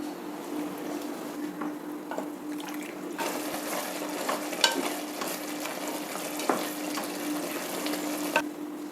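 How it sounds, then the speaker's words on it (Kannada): Water poured into a pot of seasoned rice with field beans and tomato, measured two parts water to one part rice, gives a steady close hiss and splash with sizzling, with a few sharper clicks along the way. "ಈಗ ನೀರು ಹಾಕ್ತಾ ಇದ್ದೀನಿ ಒಂದು ಅಳತೆಗೆ ಎರಡು ನೀರು"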